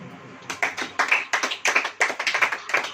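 A church congregation at a Hindi sermon claps in quick, fairly regular rhythm after a short quiet start, sharp close hand claps continuing with no voice over them.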